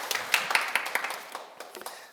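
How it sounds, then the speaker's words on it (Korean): Applause from an audience at a Sunday Buddhist dharma service, a dense patter of clapping hands with sharper individual claps standing out, steady at first and thinning out over about two seconds, moderately distant. "네, 큰 박수 부탁드립니다."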